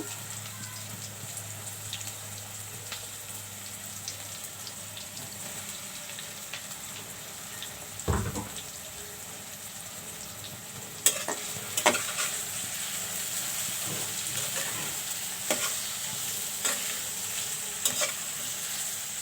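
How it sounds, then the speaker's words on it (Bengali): Dried poa fish with onion, green chili and mustard oil fries quietly in a pan, a soft steady sizzle broken by a few stirring scrapes and clatters of the spatula, with no talking. "একটু একসঙ্গে সবগুলো ভেজে নেব।"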